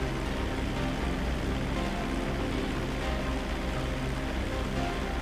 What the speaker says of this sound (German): Oh, es regnet's.